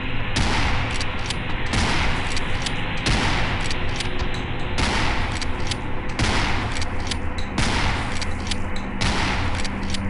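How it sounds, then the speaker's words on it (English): Rapid, loud gunfire in the Afraid of Monsters: DC game comes in repeated dense bursts of sharp shots with brief pauses between them. No voices are heard. "Time to start shooting!"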